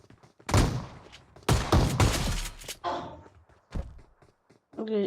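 Shotgun blasts in a video game: a few loud booming shots in separate bursts, with a voice talking briefly between them.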